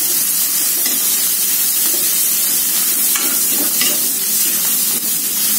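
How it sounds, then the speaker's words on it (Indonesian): Sliced spice paste is stir-fried in a pan, a loud, close, hissing sizzle broken by the scrape and clatter of a spatula stirring, with no voices. "Ini kita tumis ya, bumbu rajangannya sampai layu,"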